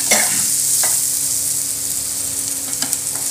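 Fish pieces added to a hot pan of spices and crushed black pepper for a Kerala fish moli, giving a steady bright sizzle with a few sharp clicks of a spoon stirring against the pan.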